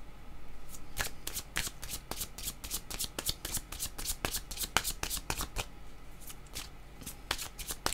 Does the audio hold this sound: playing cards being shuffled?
yes